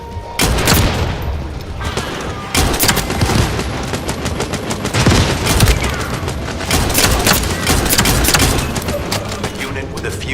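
Dense, continuous automatic gunfire in the video game The First Descendant, loud rapid bursts with booms layered throughout, close and relentless, with speech briefly under the shooting.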